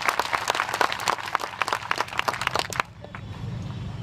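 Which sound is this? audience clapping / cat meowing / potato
audience clapping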